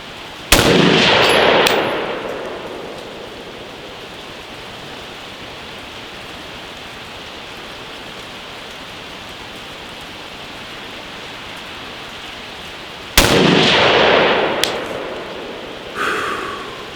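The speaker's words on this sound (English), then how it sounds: "Again, I'm only going to load 5 rounds at a time, even though I'm going to be shooting 10 of these." An AR rifle with a 7.5-inch barrel firing Wolf Gold rounds, two loud sharp gunshots about twelve seconds apart, each ringing out into a long echoing tail over quiet outdoor ambience.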